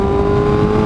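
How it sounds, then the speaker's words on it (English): A car fitted with an SC Project CR-T exhaust drones loud and close, a steady roaring engine note held for under a second. "this exhaust is very loud"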